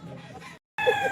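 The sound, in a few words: bulik gamefowl roosters clucking at a pet market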